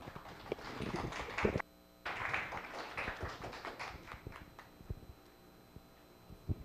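An audience at a blockchain lounge talk claps for the speaker coming up, scattered and fairly sparse, with a brief gap before the claps thin into a few isolated ones.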